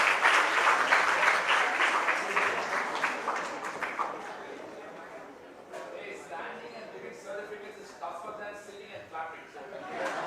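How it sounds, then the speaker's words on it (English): An audience at a university day award ceremony applauds for the awardees, a dense, loud wash of clapping that thins slightly and then carries on steadily. "Can we have a big round of applause for the awardees, please?"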